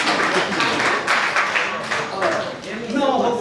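Wedding guests clap at a civil wedding ceremony, the dense applause loud and steady throughout, with voices mixed into the clapping.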